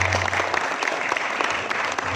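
People at a Karang Taruna youth forum meeting in Dawarblandong, Mojokerto, clap loudly and continuously for an official. A low electrical hum sits under the start.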